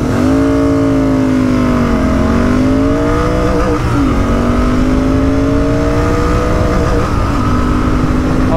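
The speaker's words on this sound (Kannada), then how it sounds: "ಸೊ ಒಂದು ಡ್ರ್ಯಾಗ್ ರೇಸ್ ಮಾಡೋಣ ಬನ್ನಿ." A Royal Enfield Interceptor 650 and a Continental GT 650 accelerate hard in a highway drag race, their parallel-twin engines revving loud and continuous through gear shifts with rising and dipping pitch, close up with no talk.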